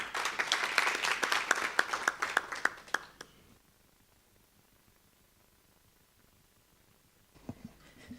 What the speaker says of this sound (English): So please let's give her a round of applause as she addresses us.